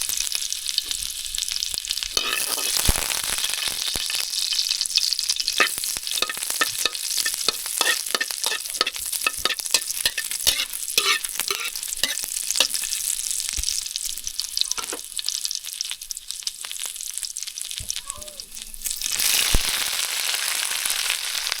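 Chopped onion frying in cooking oil in a home kitchen in the Philippine countryside, a steady close crackling sizzle with stirring scrapes throughout, briefly easing near the end before flaring up again.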